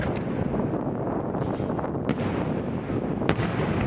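Loyalist Day fireworks in Saint John, New Brunswick, boom outdoors as a few distant sharp reports through heavy wind buffeting the microphone.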